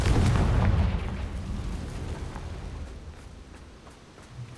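A Confringo explosion spell goes off in Hogwarts Legacy on PS5: one loud, close blast at the start that rolls away into a fading rumble over several seconds, with no talking.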